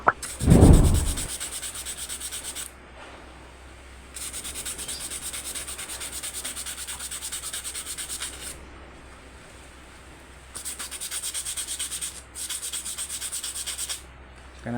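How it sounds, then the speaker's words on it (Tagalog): A rice cooker magnet is rubbed down with sandpaper in long, steady rasping strokes that come in bursts, stop briefly and start again, with a short louder knock near the start and no talk. "So ayan guys, lihain natin tong magnet."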